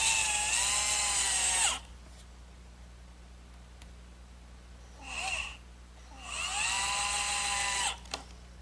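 A power drill drives hot-dipped galvanized coarse-thread Phillips screws into softwood for a garden chair, two loud close whining runs that rise in pitch as the screw seats, plus a brief burst between them and quiet pauses.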